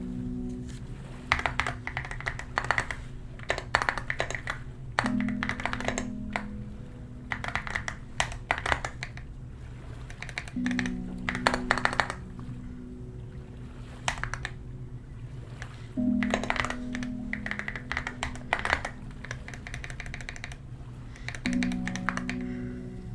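Steady clicking of keys being typed on a computer keyboard, close and continuous throughout, with a faint low hum underneath and no talking.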